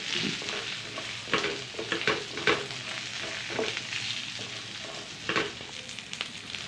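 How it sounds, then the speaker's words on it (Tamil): Coconut and spices are sautéed in a pan for an egg white kurma, a low frying sizzle broken by sharp scraping stirs at irregular intervals, close and fairly quiet with no speech. "இவை அனைத்தையும் நன்றாக வதக்கிடுங்க"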